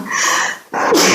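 A single sharp sneeze, split into a short intake and a loud explosive burst, close to the listener.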